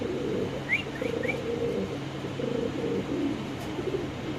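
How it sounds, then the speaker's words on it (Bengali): A foreign breed pigeon at a pigeon farm coos in low, soft murmuring phrases close by, over a steady background hum with a few faint chirps from other birds. "তো এখানে আছে এক পিস বিদেশি কবুতর"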